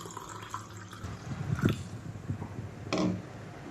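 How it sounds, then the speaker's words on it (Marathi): Washing water is tipped off foxtail millet in a bowl while preparing jaggery kheer: soft, close splashes and drips over a quiet kitchen background, with a couple of stronger pours partway through and near the end. "ते वरचं पाणी हलक्या हाताने काढून टाका"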